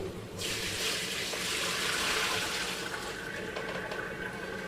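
Water from a spaghetti pot pours through a strainer in one continuous, rushing splash that stays strong for several seconds, then eases slightly toward the end.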